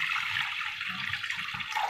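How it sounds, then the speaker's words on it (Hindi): Half a litre of water pours into a kadhai on a gas stove while making sweet corn halwa, a continuous splashing gurgle that stays steady, close and moderately loud with no talking. "इसमें 1/2 लीटर पानी डालेंगे"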